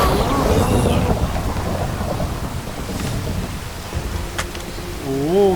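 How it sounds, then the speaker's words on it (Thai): Minecraft rain falls steadily while thunder rumbles in a long, heavy roll, followed by a few quieter game effects, with no voice heard over the storm. "โอ้ยฟ้าผ่า"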